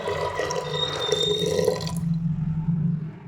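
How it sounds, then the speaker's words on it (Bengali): Water poured into a pressure cooker holding peas, a splashing trickling stream for about two seconds, then a quieter low bubbling residue, close up with no talk. "কুকারের মধ্যে দিয়ে দেবো মটর, দিয়ে দেবো পরিমাণ মতো জল।"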